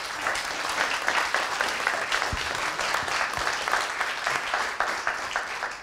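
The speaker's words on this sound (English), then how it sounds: "Big hand applause for our speaker." A lecture audience gives its speaker a big round of applause, dense continuous clapping at an even level throughout with no voices over it.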